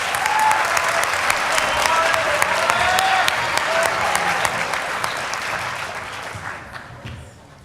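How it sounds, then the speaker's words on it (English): A large audience claps at a student conference closing ceremony, full and steady applause that slowly fades over the last couple of seconds, with a few louder individual claps and faint voices beneath. "You guys are doing great at the BUSUN clapping, by the way."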